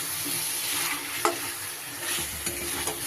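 Chicken dopeyaza cooking in a pan on low gas, stirred gently, giving a steady soft sizzle with a few light scrapes and clinks of the spoon, and no talk.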